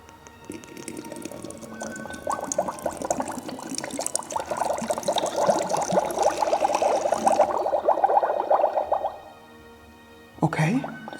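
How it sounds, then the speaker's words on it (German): Water is poured into a Magic Mixies toy cauldron, a steady trickling splash lasting about nine seconds that then stops, followed by a brief tone from the toy, recorded close with faint room quiet between. "Jetzt hier das Ding mit Wasser füllen."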